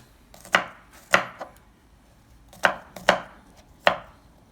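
A knife chops garlic and chili on a board in six sharp, separate strikes spaced irregularly over a few seconds. The sound is close and clear against a quiet kitchen.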